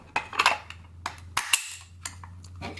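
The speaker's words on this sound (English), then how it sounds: "So in order to test it, you'll have to dry fire the trigger." SIG 553 rifle trigger being dry fired during adjustment, a few sharp metallic clicks and snaps close up, separated by brief pauses over a quiet low hum.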